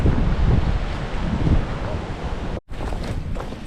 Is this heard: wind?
yes